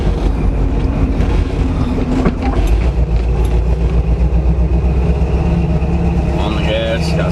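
A 1978 Camaro with a smoking valve cover filter runs on the gas, and its engine gives off a loud, steady, low roar close by. A voice may be faintly present under the engine.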